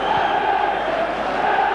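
Crowd at a 1997 UEFA Cup football match between Celtic and Liverpool: a dense, loud, continuous roar of singing and shouting supporters filling the stadium, with no breaks.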